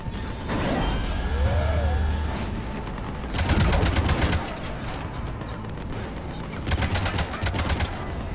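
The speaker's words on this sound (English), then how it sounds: "Cannons engaging." Cannons fire in Mass Effect 3, Omega DLC, on Insanity difficulty, under a constant heavy battle din. Two loud bursts of rapid repeated blasts stand out, one near the middle and one toward the end.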